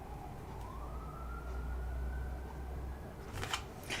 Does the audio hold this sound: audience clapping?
no